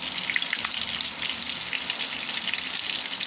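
Chicken schnitzel, pounded with a meat tenderizer and coated with a batter containing baking powder, frying in hot oil: a dense, continuous close crackling sizzle with no talking.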